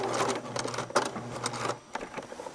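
Close by, a sewing machine back-stitches slowly over a double-thick elastic casing in short uneven bursts of needle clatter, stopping briefly near the end before a few final stitches; no voices.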